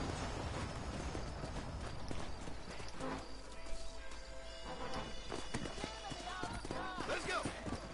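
Horse hooves clip-clop in the Western video game Red Dead Redemption, a steady trotting rhythm approaching through layered game ambience, with someone talking over it.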